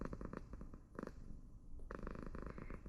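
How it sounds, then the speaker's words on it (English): A pet cat purrs close up in a rhythmic, rumbling pattern of repeated pulses, pausing briefly before resuming, with no talk over it. "If you can hear that noise, it's just my cat purring."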